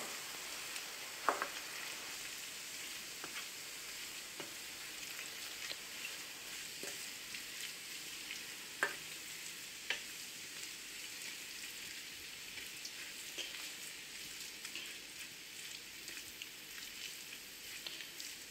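Spinach with crème fraîche cooks in a pan with a gentle, steady sizzle and occasional light clicks from stirring, faint and close, and no one speaks.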